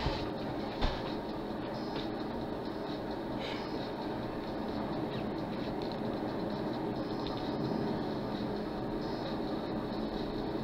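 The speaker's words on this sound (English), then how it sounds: "I guess we didn't have to stop the train." A train in the video game GTA 5 Online gives a continuous, steady rumble and rolling rail noise, loud and close, with a few faint clicks over the constant roar.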